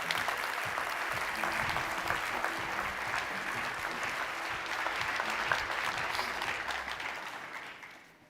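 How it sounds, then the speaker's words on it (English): A conference audience claps warmly for youth speakers at the Consumer Goods Forum. The sustained, even applause holds steady for several seconds before fading out at the end. "Please do give them a really warm hand of applause."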